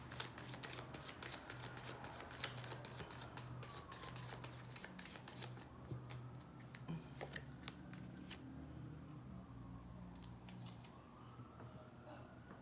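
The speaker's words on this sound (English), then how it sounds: "Last shuffle, then I take from the middle." Tarot cards are shuffled repeatedly, quick papery riffles and flutters in bursts, fairly quiet and close, with no talking.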